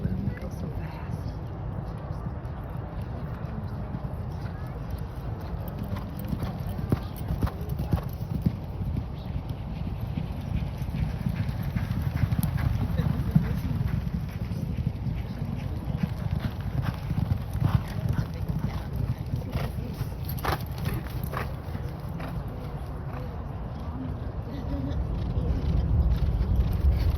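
Thoroughbred racehorses galloping past on a Louisville training track, a rapid rhythmic clip-clop of hooves running steadily throughout, with people talking intermittently nearby.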